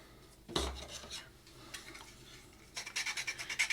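Sandpaper rubs against a drawing to clean it up, giving soft scratchy strokes in short bursts, ending in a quicker series of rhythmic rasping passes, close and quiet.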